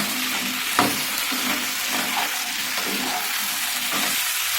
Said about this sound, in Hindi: अब आलू डाल करके इसे अच्छी तरह से थोड़ी देर पहले भून देते हैं।